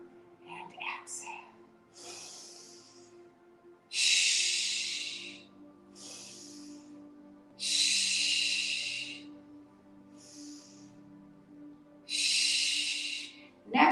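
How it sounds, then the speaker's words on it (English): Slow, deep yoga breaths, with long airy inhales and exhales rushing in repeated cycles every few seconds, close and breathy, with soft spoken guidance between them. "drop a little bit deeper and exhale"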